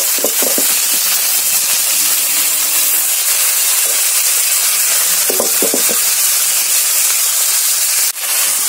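Saag greens hit a pan of fried onion and garlic, sending up a loud, steady sizzle and hiss that fills the whole stretch, with a few brief stirring clatters and no talk.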